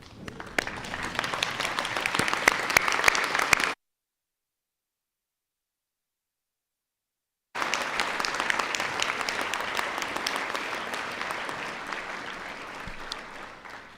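A large audience at a university business school winter graduation ceremony stands and applauds, a sustained dense roar of clapping that breaks off into silence for a few seconds, then resumes steadily and continues to the end.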